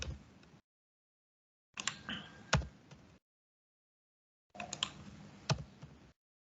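Computer keyboard typing code in three separate bursts of quick, light clicks, close and soft, with silent gaps between bursts.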